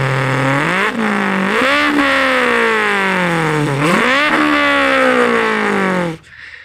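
A person's mouth imitates a 4-cylinder car engine with a loud, buzzy, continuous drone that climbs in pitch through several gear-change dips, like an engine revving through shifts, before cutting off abruptly near the end.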